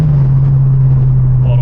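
Ford Focus MK2 ST engine fitted with a Dreamscience Mod C intake, a steady low drone of the turbocharged engine under load, loud and close, with a faint rise near the end.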